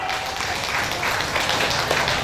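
Crowd applause for the organising committee at a church inauguration for HKBP Ressort Sei Baru in Pantai Cermin: dense, continuous clapping that fills the moment without a break.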